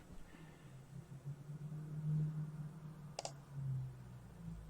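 One quick, crisp computer mouse click, heard once against a faint steady background hum.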